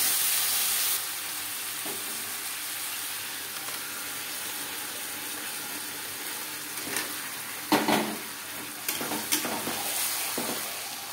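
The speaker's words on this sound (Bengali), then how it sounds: "হাই টু মিডিয়াম ফ্লেমে মাটন বেশ ভালো করে কষিয়ে নেব।" Mutton stir-fried with fried onions over a high-to-medium flame, a quiet continuous sizzle with a few louder spatula scrapes and stirring knocks in the second half.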